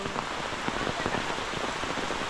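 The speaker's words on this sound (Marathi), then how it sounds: "एवढा पावसाने धुमाकूळ जो घातला आहे" Heavy monsoon rain pours down steadily in a Konkan village, a close, dense patter of drops drumming on surfaces without pause and no speech.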